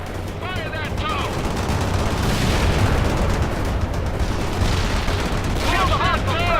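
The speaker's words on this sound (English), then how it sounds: "Bradley, returning fire at hostile!" Bursts of rapid gunfire from a Bradley vehicle in the World in Conflict war game ring out loud and continuous amid battle noise, with voices talking over the shooting.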